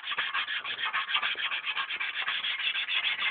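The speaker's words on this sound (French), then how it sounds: "Parce que là, il y a du frottement. Frottement métallique." A continuous bright metallic rubbing and scraping noise with a fast, slightly pulsing grind, fairly close and steady throughout, with no talking.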